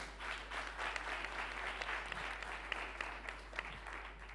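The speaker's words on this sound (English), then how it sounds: "A big round of applause again" Studio audience applause for actresses on a talk show, a steady rattle of many hands clapping at moderate distance, fairly even throughout with a low constant hum underneath.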